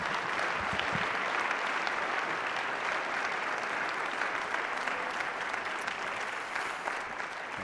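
An audience at a downtown lecture on the self, life and death applauds to welcome Dr. Shaun Nichols, a steady, full round of clapping from many hands that holds even throughout.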